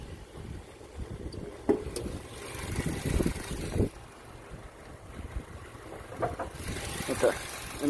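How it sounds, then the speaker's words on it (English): A 2000s Acura RSX engine idles steadily at low rumble beneath someone talking, with occasional clicks and bumps nearby. "The vehicle runs, idles just fine."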